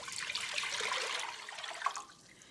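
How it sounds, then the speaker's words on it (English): Water pours steadily into a medium-sized pot for cooking, a bright continuous splashing rush close to the mic that thins and trails off near the end, with no talking. "I've got a medium-sized pot, and I'm going to add about 5 cups of water."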